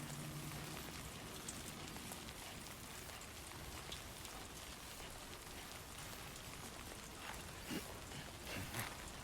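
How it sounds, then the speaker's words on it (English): Steady rain in the video game Death Stranding 2, a continuous dense hiss of drops pattering on surfaces, even and fairly quiet throughout with no speech. "Get out of the rain."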